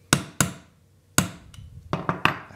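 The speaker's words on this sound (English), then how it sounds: "I take my armor's hammer and I'm going to do the same thing. I'm just going to tap the pin in" An armorer's hammer taps a pin into a SIG Sauer P365 XMacro grip module, giving sharp metallic knocks in an uneven run of about seven, close and crisp, with no talk.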